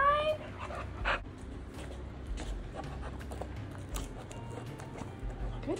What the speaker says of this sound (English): This dog is all about love.